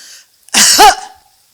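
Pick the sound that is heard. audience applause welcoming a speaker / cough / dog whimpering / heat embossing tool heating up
cough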